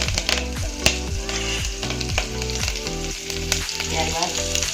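Green chilies sizzling in hot tempering oil for fasting kadhi, a loud dense crackle and spatter with steady scraping stirs, close and continuous, no talk.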